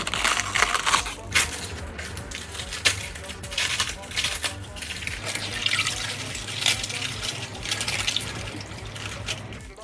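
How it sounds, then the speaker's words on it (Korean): Cabbage leaves being rinsed by hand in a bowl of cold water with a little vinegar, giving close splashing and sloshing water with clattering handling noises throughout, no talk over it. "얘를 이렇게 떼어서 식초 물에 넣고 살짝만 헹궈 줄 거예요"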